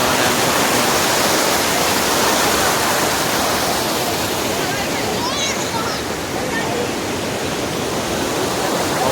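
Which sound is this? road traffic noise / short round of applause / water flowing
water flowing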